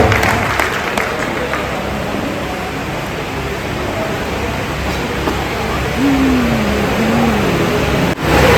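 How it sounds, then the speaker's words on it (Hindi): Sustained applause from an audience in an Indian assembly hall welcoming a guest, a broad noisy wash of clapping lasting several seconds with a brief voice partway through. "मैं चाहूंगा कि आप लोग उनके समान एक जोरदार ताली बजा करके स्वागत करेंगे।"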